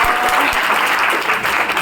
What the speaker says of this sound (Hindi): एक बार तालियां बजा दो आप लोग